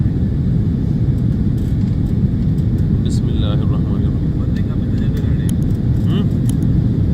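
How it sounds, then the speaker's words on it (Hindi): Steady, loud airplane cabin rumble as a jet accelerates down a short runway and lifts off on a flight to Japan, with light rattles and a person speaking over the drone. "जहाज़ हिल भी बहुत रहा है और इसने रनवे पे ज़्यादा लंबा नहीं चलाया"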